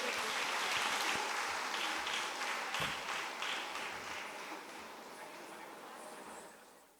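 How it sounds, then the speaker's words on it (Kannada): An audience applauds at a stage cultural program with dance performances, a dense sustained clapping that stays loud for several seconds and then slowly tapers off. "ಆದ್ದರಿಂದ ಎಲ್ಲರೂ ಚಪ್ಪಾಳೆ ಕೊಟ್ಟು ಗೌರವಿಸಬೇಕು."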